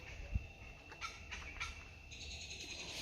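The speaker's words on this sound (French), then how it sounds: "nous sommes juste à côté des macao là qui n'arrêtent pas de parler" Macaws at the Copan ruins in Honduras squawk in several harsh, raucous bursts, moderately close, over steady outdoor background noise with no talking.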